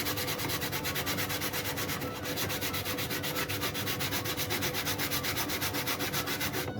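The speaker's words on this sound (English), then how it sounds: "I might go to the Dremel and sand it off with the Dremel" Steady hand sanding on a wood burning tool, a continuous rhythmic scratchy rubbing with fast regular strokes, close and fairly loud, with only a brief pause near the middle.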